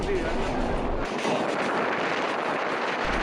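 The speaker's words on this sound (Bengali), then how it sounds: "আমাদের ট্রেন কিন্তু পাগলা ঘোড়ার মতো ছুটে চলেছে তার গন্তব্য নাটোরের উদ্দেশ্যে" Inside the Intercity Rupsha Express running at speed from Khulna toward Natore, a continuous loud roar of the moving train with wheel and carriage rumble.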